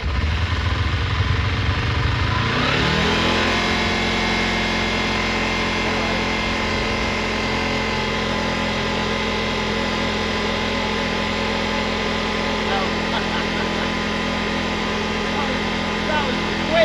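A Kawasaki Eliminator EL 250 motorcycle engine under restoration cranks and catches, then settles into a steady, loud running drone that holds for the rest of the stretch with little variation.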